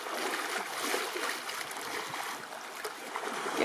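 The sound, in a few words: water lapping against a boat hull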